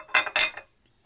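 A whisk clinks against a bowl while beating five large eggs with 300 g of sugar for a lemon birthday cake: two quick, close bursts of metallic scraping and tapping, then quiet.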